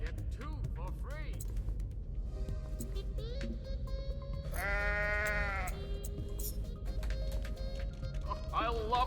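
A goat bleats in the video game Goat Simulator, a couple of loud wavering bleats mid-clip amid busy game sounds, clopping hooves and a talking voice.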